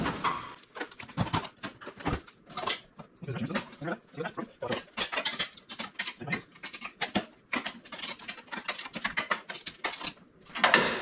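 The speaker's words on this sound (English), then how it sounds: "We'll have to use the ratcheting wrench on that." A ratcheting wrench works on the intercooler bolts of a turbocharged LS engine, giving rapid bursts of close clicking in uneven spurts, with a voice talking at times.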